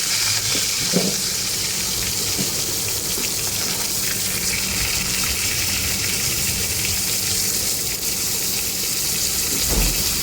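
Potatoes sizzle steadily in hot oil tempered with green chilies and cumin seeds, a loud, close, continuous crackling hiss with no voices.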